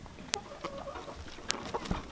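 Hens pecking around a fresh pile of material, giving a few brief, scattered clucks and questioning calls at close range with light scratching between them, no voices.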